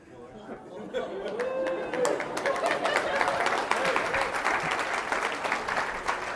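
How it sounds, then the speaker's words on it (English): Audience applause at an international forum's opening session, a broad wash of clapping that swells and holds steady for several seconds, with chatter beneath it. "So a big round of applause for these people, please."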